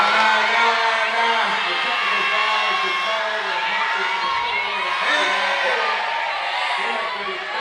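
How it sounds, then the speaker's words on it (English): Basketball crowd at a men's college game between DSU and Hampton cheering and whooping loudly and continuously, a dense roar of shouts. "This crowd is going to erupt."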